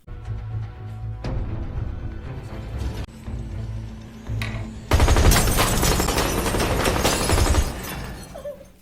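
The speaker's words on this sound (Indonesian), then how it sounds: "Suara tembakan Bang Benny menjadikan penanda bahwa aksi mer" Rapid bursts of gunfire crackle loudly over a tense musical backdrop, growing denser and more intense partway through.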